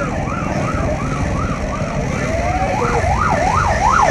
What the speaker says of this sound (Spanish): Ahí viene la ambulancia.